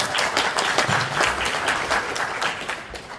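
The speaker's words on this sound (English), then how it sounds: "give him a round of applause" An awards-night audience claps for an absent young clay target shooter, a brisk burst of many hands with slightly uneven surges, moderately loud and close, no voices over it.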